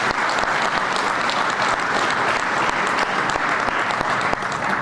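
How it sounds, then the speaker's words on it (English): Steady, dense applause from a large audience at an O'Hare International Airport infrastructure announcement, sustained and even throughout with no talk over it. "Yes, clap for that."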